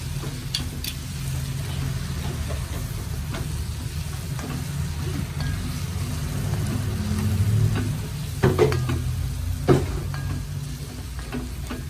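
Spices with half a spoon of turmeric powder sizzling as they fry in a pan for squid masala: a steady close crackling hiss with occasional clicks and scrapes from stirring.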